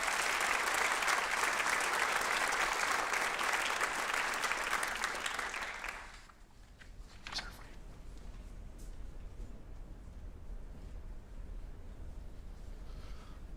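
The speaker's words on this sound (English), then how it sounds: "Let's give Isabella a round of applause" At a high school awards night, an audience gives a round of applause for a student athlete: loud steady clapping for about six seconds, then cutting off to a quieter room murmur.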